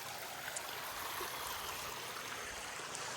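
A small forest stream on the Sabarimala pilgrimage path flows in a steady, even rush of water with soft trickling detail, close by and with no voices.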